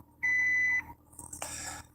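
A voicemail greeting's beep tone, a single steady electronic beep lasting about half a second, followed by faint room noise and a brief click-like burst.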